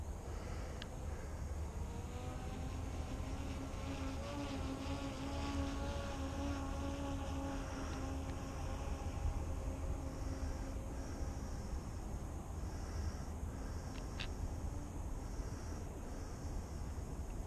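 A camera drone flying across a street near a cemetery, a steady high buzzing whine with a faint tonal hum rising and falling, outdoors with wind, no talking.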